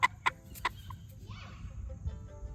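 Delaware chickens cluck three times in quick succession near the start, followed by softer, scattered bird calls over a low outdoor background, with no talking.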